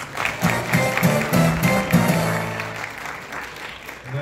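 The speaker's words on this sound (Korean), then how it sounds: "멘토께도 큰 감사의 박수 한번 부탁드립니다" An audience at a factory opening ceremony claps in thanks for a mentor, a short burst of applause with some voices underneath, fading over a few seconds.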